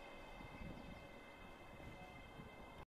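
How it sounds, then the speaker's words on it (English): A train pulls into the platform at Croy station, its steady rumble loud and close for the whole stretch, with a strong wind-like hiss mixed in and no voices. "So we have the train arriving at platform 1."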